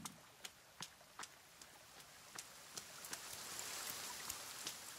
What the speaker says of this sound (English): At least it's raining.